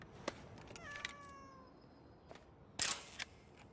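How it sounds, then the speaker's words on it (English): A cat meows once in a drawn-out, falling tone, fairly close and clear, followed moments later by a sharp click over faint background noise. "What are you doing up here, kitty?"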